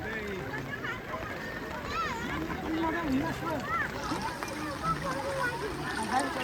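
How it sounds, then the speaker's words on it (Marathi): A small boat is rowed through village floodwater after heavy monsoon rain, with soft splashing and water movement under steady nearby chatter from several people. "कसा होडी चालवते"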